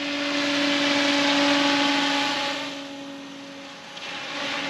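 XL Power Specter 700 V2 RC helicopter rotor spinning: a loud, steady whine with a strong, even pitch and a broad whoosh that swells, then eases slightly, close by and with no voices.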